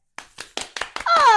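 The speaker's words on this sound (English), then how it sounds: "Clap, guys" A few people clap in a sparse, uneven burst of about five separated claps, close and moderately loud, before a voice starts speaking over the end.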